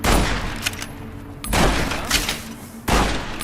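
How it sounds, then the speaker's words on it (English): Brush gun fire in Fallout New Vegas: three heavy, booming shots spaced roughly a second and a half apart, each loud and close with a decaying tail. "Alright, brush gun."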